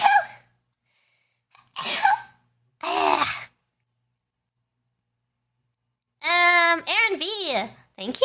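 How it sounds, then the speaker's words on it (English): A young woman sneezes with a sharp burst followed by a second one, then talks in a high, expressive voice afterward, close and clear with quiet gaps between. "gotta sneeze."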